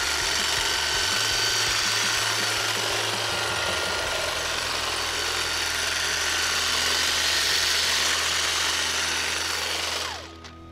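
A Milwaukee Quik-Lok hedge trimmer attachment runs on slow mode while cutting higher weeds, giving a loud, steady, close-up motorized buzz that holds for about ten seconds before winding down and cutting off.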